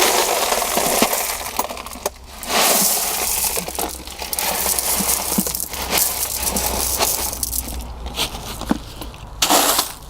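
Stones dropped into a large ceramic sink being set up as a worm bin, landing on shade netting as a scattered run of close clinks and crunchy rattles, with no talk.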